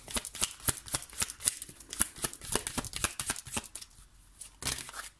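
Tarot-style cards are shuffled in quick rapid riffles and slaps, close and crisp, with a short pause before a final shuffle burst.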